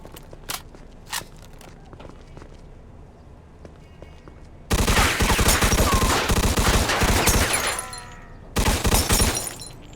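Gunfire from a shop being shot up in the video game Mafia 2: a few scattered shots early on, then a long loud burst of rapid gunfire mixed with shattering, then another burst at the end.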